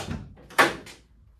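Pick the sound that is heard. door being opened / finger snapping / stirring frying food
door being opened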